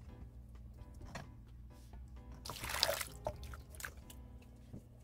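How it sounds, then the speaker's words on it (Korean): Water poured through a mesh sieve over persimmon pulp while making persimmon grain syrup, soft drips and a short splashing pour swelling midway, then light trickling and drips again, fairly quiet and close. "다시 물 2리터를 3번 나눠 넣으면서 3번 더 체망에 걸러줄게요."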